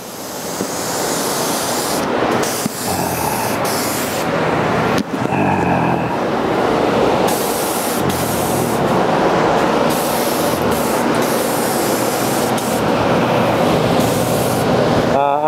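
An HVLP spray gun lays conversion lacquer onto a wooden door with a loud, steady hiss. The hiss runs almost continuously, with brief breaks where the trigger is released between passes.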